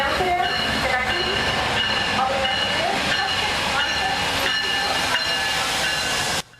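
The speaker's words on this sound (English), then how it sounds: "Now arriving at the rail station is train 64." A passenger train from Toronto pulls into Rochester's rail station, a loud, continuous wash of hissing and mechanical rumble with faint tonal whistles, steady throughout before cutting off abruptly.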